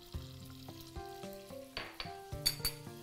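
Butter sizzles in a pan at the start of a mushroom soup. A soft, steady frying hiss sits close by under repeated clinks and scrapes of a small spoon against the pan, and nobody speaks.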